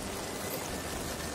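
Steady rain falling at night on a mountain camp in Colombia, a dense, even hiss of drops with no breaks and no voices.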